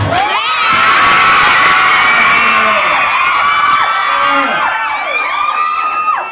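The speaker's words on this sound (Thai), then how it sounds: "พอคนกอดกันเสียงกรี๊ดดังครับ" A loud crowd of fans at a concert shrieks and screams with high, excited voices as the singer hugs someone, rising and sliding in pitch, sustained throughout.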